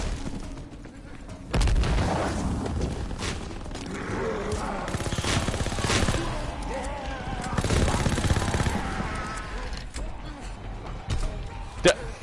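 Rapid video game gunfire rattles in loud bursts over a busy battle soundscape, with booming impacts scattered throughout and voices talking over the action.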